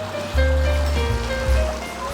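A small man-made stream flowing across the middle of a valley campsite near Woraksan, giving a steady, close rushing and babbling water sound with a low rumble and no talking.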